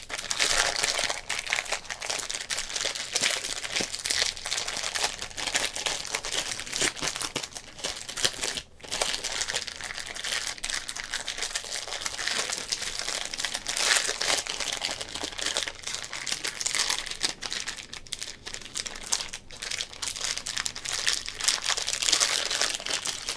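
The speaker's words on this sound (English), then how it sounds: "Solid crinkles there." Continuous close-up crinkling and crackling of a plastic baseball card rack pack wrapper, dense and steady for over twenty seconds with only a brief dip partway through, heard alone.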